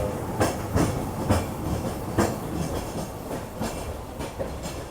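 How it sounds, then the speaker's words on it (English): The Peak Tram funicular pulls into a stop in Hong Kong with a steady rhythmic clickety-clack of wheels over the rails and a soft hiss, close and fairly loud, with no talking. "In fact, the peak tram is coming right now."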